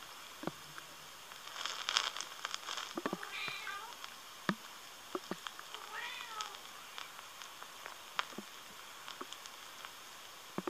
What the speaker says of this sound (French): chat qui semble torturé par des vibrations